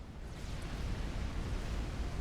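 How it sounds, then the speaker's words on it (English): A massive explosion in a strategy video game on a custom map, rendered as a sustained, dense low rumble with a broad roar that holds steady throughout, with no talk over it. "In this massive explosion."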